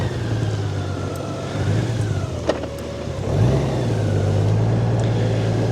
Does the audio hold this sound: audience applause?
no